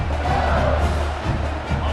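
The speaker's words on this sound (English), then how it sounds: "for an entire game, they are on their feet, yelling, screaming." A stadium crowd in EA Sports College Football 26 roars and yells continuously, a loud, dense wash of voices with no single speaker standing out.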